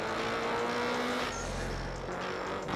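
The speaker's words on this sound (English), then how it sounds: "Engine sounds good." Racing video game car engine, a steady broadband roar with a sustained drone that swells slightly midway, loud and continuous with no talking.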